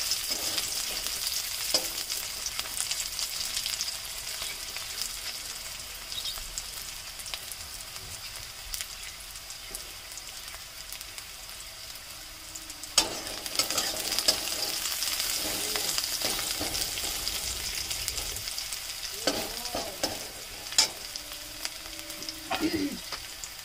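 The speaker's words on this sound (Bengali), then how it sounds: "এবার ভালো করে এগুলোকে নেড়ে নেব।" Chopped onion, cumin and dried chili frying in oil for mixed dal, stirred so the steady sizzle is broken by several louder scraping and clattering strokes, close up and unaccompanied by speech.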